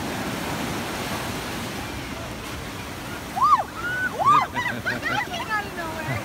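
Cold Pacific Ocean surf washes in a steady, rushing roar at the shore. Partway through, a few high whistling, chirping tones rise above the waves.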